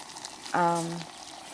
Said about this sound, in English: you can see it's a rolling boil